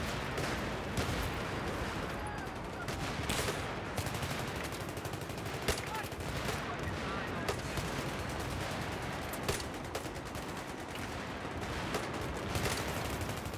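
Continuous gunfire in Battlefield 3 on the Metro map rattles along without a break, a dense mix of rapid rifle shots and distant bangs at a steady, moderate level.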